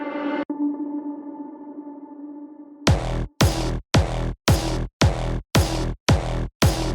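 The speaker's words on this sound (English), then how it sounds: "What you just heard is the very intro, like just the kick and the, percussion snare" A track intro opens on a sustained synth tone, then a punchy electronic kick and snare hit in a steady, evenly spaced pattern of heavy, loud beats.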